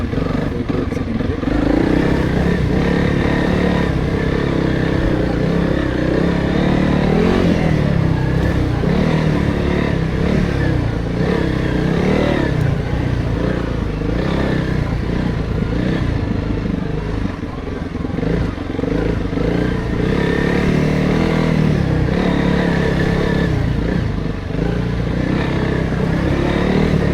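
A Honda CRF 300L Rally motorcycle runs along a wooded off-road track, its engine droning steadily and close with rises in revs, rattles and scrapes from the rough ground.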